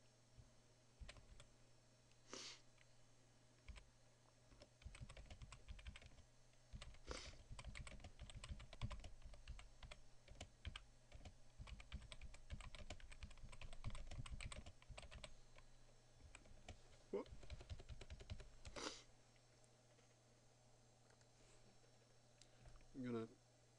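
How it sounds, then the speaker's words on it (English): Text is typed on a computer keyboard as soft, close, irregular clicks and taps in quick runs that continue for most of the stretch. "now I'm going to type in a piece of text"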